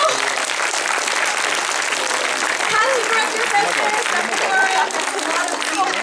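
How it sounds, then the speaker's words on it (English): Sustained dense applause fills a theatre crowd at a 3D horror film's North American premiere Q&A in Toronto, steady and loud throughout, with a voice speaking over it. "please give a big, big round of applause for all those people"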